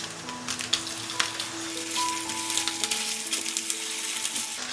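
Chicken and tofu breast patties sizzle steadily in oil in a pan after being flipped, with close crackling and popping and a few clinks from the pan.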